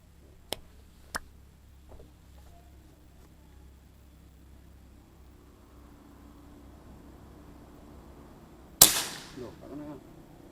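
A sharp, loud crack from a PCP air rifle firing at a 20-meter target outdoors, a single shot near the end with a brief ringing tail, after a quiet stretch with a couple of faint clicks.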